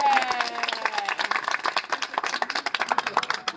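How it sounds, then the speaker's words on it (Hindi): An audience at a talk claps on request, a dense burst of many hands near and loud, quickly fading into scattered claps with a little murmur. "ताली तो बजाओ"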